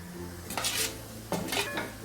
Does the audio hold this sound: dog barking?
no